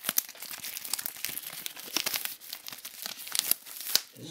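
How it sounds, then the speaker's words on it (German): Plastic shrink wrap is peeled off the digipack of an album, producing close, continuous crinkling and tearing with sharp crackles throughout. "Das müssen wir natürlich auch erstmal auspacken."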